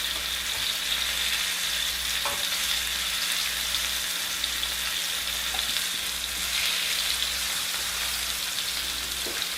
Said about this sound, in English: We're going to brown them, then we're going to put them back in the crock pot.